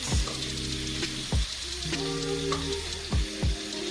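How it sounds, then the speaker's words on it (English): Onions frying in a pan while a beef steak with peppercorn sauce is prepared, a steady sizzle under thumps and clatter of utensils, close and moderately loud, with no talking. "So I'm just going to put the onions in now, and we don't need really to cook them completely."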